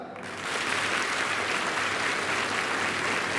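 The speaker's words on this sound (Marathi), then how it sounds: "महिला मंडळ तुम्ही टाळ्या वाजवायच्या जोरात." Women in a lecture audience clap loudly together, the dense applause swelling in after a brief quiet start and holding steady and strong to the end.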